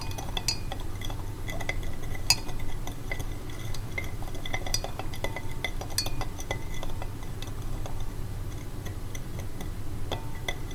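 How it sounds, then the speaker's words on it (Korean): A spoon stirs sugar in warm water inside a glass, giving light clinks and taps against the glass over a faint steady background, with no talking. "살짝 한번 저어 볼까요?"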